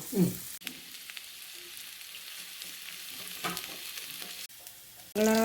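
Chopped large onions sizzling in a pan for a Kerala stir-fry, a fairly faint steady frying hiss with a few stirring scrapes, cut by short pauses and a louder burst at the end.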